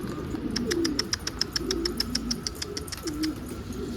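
Pigeons cooing in a garden loft: soft, low coos rise and fall under a fast, regular series of sharp chirping ticks, all at moderate volume with no talking.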